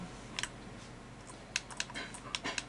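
Typing on a laptop keyboard while installing Ubuntu: a few separate bursts of crisp key clicks, close and fairly quiet, with short pauses between them and no talking.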